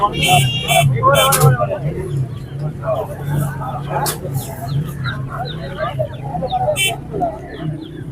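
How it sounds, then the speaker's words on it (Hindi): Roosters, including desi and aseel breeds, crowing and clucking among other birds in a busy outdoor poultry market, with a crowd murmuring in the background. "यहाँ बड़े प्यारे प्यारे मुर्गे भी हैं और देसी भी हैं"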